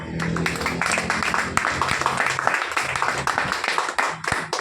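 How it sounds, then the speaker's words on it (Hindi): Audience applause and clapping at an RCM business gathering, dense and continuous hand claps with some crowd noise mixed in, sustained throughout at fairly loud level. "तो इसी सर के लिए जोरदार तालियां"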